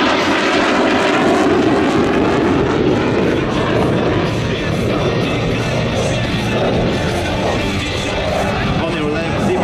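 A loud, roaring Polish F-16C Block 52+ fighter jet engine fills the air with a steady, powerful rumble and hiss during a nose-up maneuver at an air show, close and continuous throughout.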